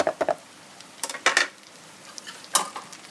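Chopped onions go into a pan of okra for bhindi masala and are stirred in, giving a few short scraping clinks of a spoon against the pan with light sizzling between them.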